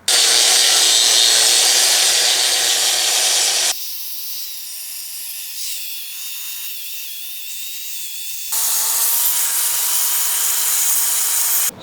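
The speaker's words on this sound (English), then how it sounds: "I want to grind this off and make it look nice and clean and smooth." A grinder works uneven cement off a concrete driveway, a loud steady abrasive whine that drops to a quieter tone midway, then returns at full strength.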